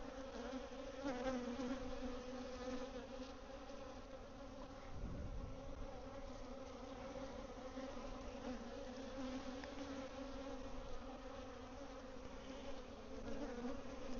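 Honeybees on the comb in a bee yard give off a faint, steady buzzing drone, with one brief low rumble partway through.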